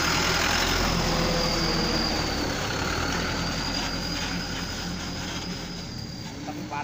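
A truck engine dropping material at a village road-building site runs loud and close, a steady heavy rumble with a high whine that eases slightly toward the end, with faint voices underneath.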